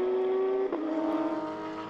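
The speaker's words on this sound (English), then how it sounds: "Here is the red 98 Porsche." A red Porsche race car in a NASCAR Whelen Euro Series and Belcar round at Oschersleben roars past with a steady high engine note that dips slightly midway, loud and close, with no talk over it.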